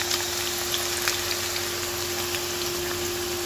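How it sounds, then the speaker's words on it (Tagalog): Onions frying in oil for a Saudi lamb kabsa topping, a steady close sizzle and crackle with a constant hum underneath, no voices. "ipiprito po natin yan para po yan ay pantoppings natin mamaya sa kabsa natin"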